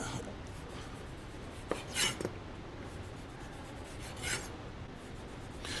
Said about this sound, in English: as I'm cutting it, I'm following this line, this what's called white pith, with the edge of my knife